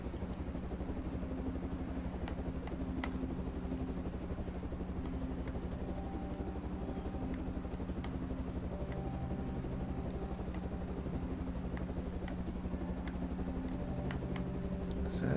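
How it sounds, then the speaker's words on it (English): A helicopter in the snowboarding game Infinite Air drones steadily for the whole stretch, a constant low rotor and engine hum with faint ticks scattered over it and no voices. "let's get in the chopper"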